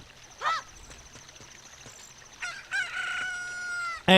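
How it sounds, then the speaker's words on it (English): A chicken hatches and crows in Zelda: Ocarina of Time, a short squawk followed by a longer, strained cock-a-doodle-doo, clear and close over a quiet game background, ending on a bright jingle. "Chicken hatched."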